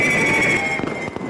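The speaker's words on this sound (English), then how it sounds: "the fireworks signal the end of New Year's Eve" Fireworks let off across Beijing on Chinese New Year's Eve, a dense continuous crackle with sharp bangs and pops layered over a steady hiss, loud and close with no speech.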